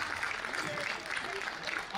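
An audience at a Hindi political speech claps in a dense, continuous wash of applause, with a voice faintly audible underneath.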